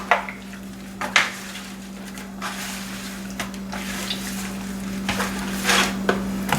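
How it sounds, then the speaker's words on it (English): Seasoned BBQ chicken thighs are mixed together by hand or utensil, giving soft wet squelches and scattered clinks and scrapes against a bowl over a steady low hum, with no talk. "Now I'm gonna mix it all up together."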